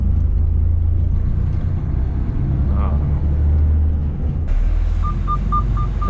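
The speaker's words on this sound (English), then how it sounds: "still in traffic" Road traffic in a slow, near-standstill jam of cars and buses: a steady low rumble of idling engines throughout, with a brief higher whine near the middle and a shift to a brighter tone with repeated short beeps toward the end.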